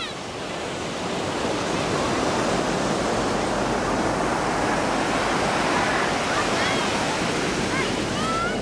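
Ocean surf rolling onto Baker Beach in San Francisco, a steady broad wash of breaking waves close by and fairly loud throughout, with a faint voice or two mixed in.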